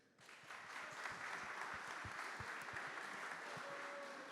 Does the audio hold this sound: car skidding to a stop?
no